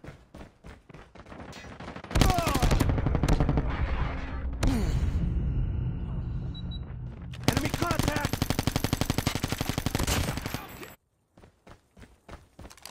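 Gunfire in the mobile shooter game Call of Duty Mobile: loud, rapid automatic bursts with sustained stretches of rattling fire, separated by brief pauses and scattered single shots, ending in near quiet.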